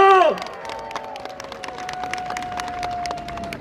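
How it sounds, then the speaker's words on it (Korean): Crowd applause at a political campaign rally, scattered clapping after a voice fades out, continuing at moderate level with a lingering sustained tone underneath. "박수 보내주십시오."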